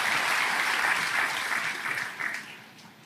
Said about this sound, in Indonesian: Kasih tepuk tangan kepada Tuhan.